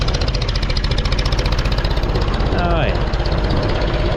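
A tractor engine chugs at a steady, loud, throbbing idle as it pulls a heavy wagon of sweet corn silage up to the blower. Someone speaks briefly over it.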